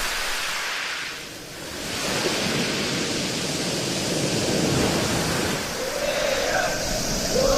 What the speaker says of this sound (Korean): 콩처럼 작은 돌들이 파도와 함께 구르는 이곳 콩돌 해변